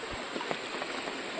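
A river swollen after rain rushes and gurgles steadily in the open outdoors, a continuous broadband wash of flowing water heard up close.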